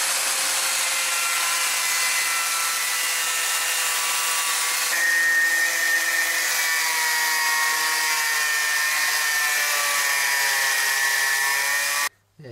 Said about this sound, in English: I'm just cutting the brackets to size, and I've got my angle grinder and this thing I bought which makes it like a drop saw